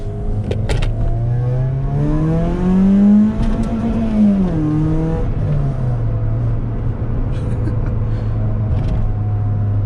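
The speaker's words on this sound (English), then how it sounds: "Little first gear pull right here." A car engine revving hard in first gear, pitch climbing steadily as it accelerates, then dropping as the driver lifts off and settles to a steady drone, loud and close, heard from inside the cabin.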